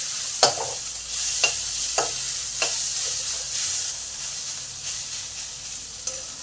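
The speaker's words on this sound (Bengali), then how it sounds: "আদাটাকে পেঁয়াজের সঙ্গে ভালো করে কষে নেব" Ginger paste stirred and fried with browned onions in a pan for chicken khichuri, a steady sizzle with several distinct scraping strokes of the spoon at irregular intervals, close and clear.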